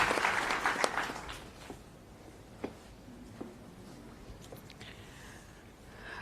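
Audience applause for a speaker at a university talk on Swami Vivekananda, loud and dense for the first second or so, then thinning into scattered claps that fade to a faint hum.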